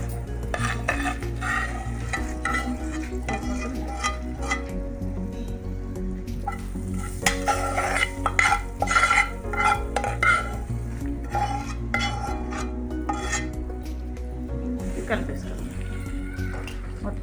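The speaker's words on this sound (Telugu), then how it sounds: "మొత్తం పోపు అంతా పులిహోర పడేటట్లు కలిపిద్దాం" Cooked tempering is mixed through tamarind rice pulihora in a metal vessel, giving steady clinks, scrapes and stirring sounds throughout while a person talks over the cooking.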